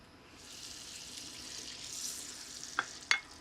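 Oil and butter sizzle in a skillet for shrimp and asparagus, a steady soft hiss rising gradually. Two short sharp clinks or pops come near the end.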